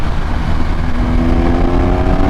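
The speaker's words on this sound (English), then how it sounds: "even the engine noise sounds better now" A 2021 BMW R 1250 GS motorcycle with a stage 2 ECU flash idles and revs in a steady, loud, close engine drone with a low growl. No one speaks.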